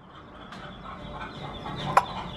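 A hen guarding her chicks gives soft, low clucks against steady background noise, with one short sharper peep near the end; no voices.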